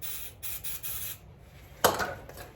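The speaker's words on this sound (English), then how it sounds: "You want to make sure you get some carb cleaner in each one of them." Carb cleaner hisses out of a spray can into the orifices of a Honda CBR600F2 carburetor, first as several short bursts, then as one sharper close blast near the end.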